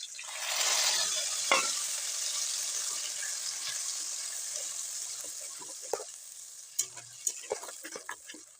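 Masala paste with tomato, green chilli and bori frying in a pan for a village-style magur fish curry, a loud hissing sizzle that fades to a softer fry, then several sharp spatula scrapes and taps near the end.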